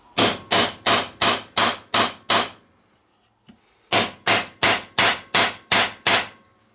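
A 5/16 threaded insert is hammered into the inside edge of a wooden rail with two bursts of sharp, evenly spaced blows: seven strikes, a short pause, then seven more. The hits are loud and close, with no talking.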